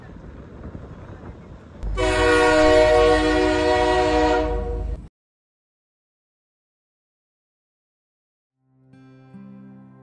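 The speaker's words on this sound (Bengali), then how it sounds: "এখন আমরা কন্যাকুমারী থেকে যাব হচ্ছে রামেশ্বরম, কন্যাকুমারী রামেশ্বরম সুপারফাস্ট এক্সপ্রেস।" The Kanyakumari–Rameswaram Superfast Express sounds a loud, sustained horn blast over a rumbling rail noise for about three seconds. The sound cuts off abruptly into silence, and faint steady tones follow near the end.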